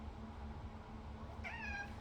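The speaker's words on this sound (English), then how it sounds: "I've got my cat here with me." A pet cat gives a short, rising meow near the end, close and clear over steady low room hum, with a person's home setting around it.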